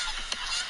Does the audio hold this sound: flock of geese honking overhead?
yes